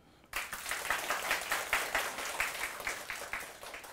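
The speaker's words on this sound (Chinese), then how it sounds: "鼓掌。" A lecture audience at a spiritual talk breaks into applause after a brief quiet moment. The clapping is steady, dense and fairly loud, with a gentle rhythmic pulse, and it continues without any speech over it.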